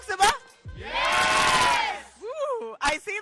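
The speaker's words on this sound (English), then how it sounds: "Woo, I see that cheer." A street crowd of voters in Bengaluru, Karnataka, cheers and whoops during the Lok Sabha election in one loud, sustained swell. Short shouted voices come just before and after it.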